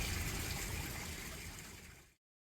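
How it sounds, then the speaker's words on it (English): Water rushing and gurgling steadily into a narrowboat dry dock as it is flooded, a constant close wash of flowing water that cuts off abruptly. "Let the water in."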